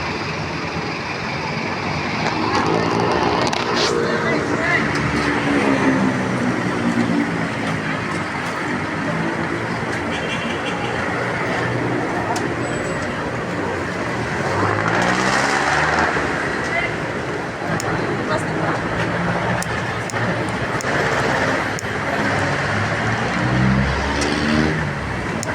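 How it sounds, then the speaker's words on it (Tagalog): Car traffic moves along Commonwealth Avenue in Quezon City toward Quezon Memorial Circle. Engines rumble and swell as vehicles pass, and someone talks over the road noise almost the entire time. "yun yung mga sasakyan doon papunta Quezon Memorial Circle"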